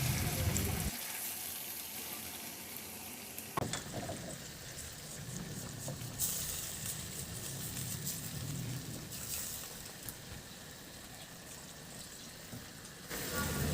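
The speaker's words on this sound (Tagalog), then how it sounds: "Ilagay ko na yung royal or orange juice." Royal orange soda is poured into a pot of pork pata, giving a steady fizzing, trickling wash with sizzling texture that runs for several seconds and then tails off.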